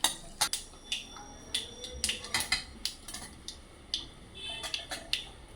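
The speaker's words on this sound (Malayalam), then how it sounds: "കടുക് പൊട്ടി" Mustard seeds splutter in hot oil for a Kerala mango curry, giving sharp, irregular pops and crackles close by, some in quick clusters, over a faint background hiss; no speech.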